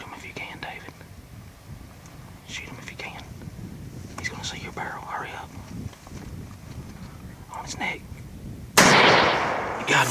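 A single loud gunshot at a wild turkey during a hunt, sudden and sharp near the end, following quiet whispering and soft outdoor rustling.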